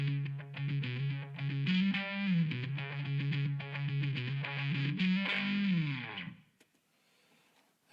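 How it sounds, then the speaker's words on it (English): Fuzzy, distorted guitar tone from a Fredric Effects Displacer fuzz run into an Earthquaker Devices Depths optical vibe pedal, playing a wavering, modulated riff for about six seconds before cutting off into near silence. "But that's also been run into my Earthquaker devices, the Depths, which is an optical vibe style pedal,"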